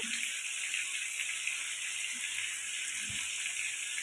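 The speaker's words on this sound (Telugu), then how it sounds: "ఒక లీటర్ నీళ్ళు పోసుకోవాలండి" Steady rushing water pours continuously into a pot, about one litre, a broad even hiss with no pauses and no voices.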